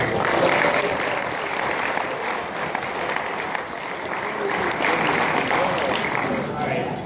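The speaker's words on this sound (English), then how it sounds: "Give her a round of applause." Audience at an awards ceremony applauds a second-place finisher, a sustained wash of clapping at even loudness lasting several seconds, with some voices mixed in.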